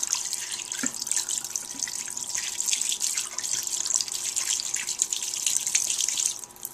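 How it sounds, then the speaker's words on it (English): Water runs and splashes continuously as rinsed sprouts are drained in a home kitchen, a close, steady trickle with small drips, fading slightly at the end. "So now what I'm going to do is just drain them out. Drain out the water."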